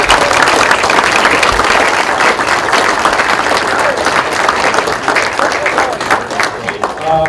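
Audience at an American Legion candidate forum applauds the candidates, a dense, steady wash of clapping hands that stays loud throughout with a murmur of voices underneath.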